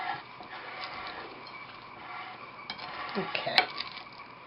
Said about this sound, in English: going to mix this together